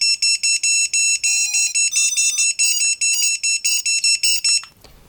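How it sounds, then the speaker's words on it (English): An FPV smoke stopper on an 8-inch drone build with a T-motor F7 SE stack beeps rapidly after its button is pressed, a loud, even string of about fifteen sharp electronic beeps that cuts off near the end. "So I'm going to press the button and it'll start beeping like crazy."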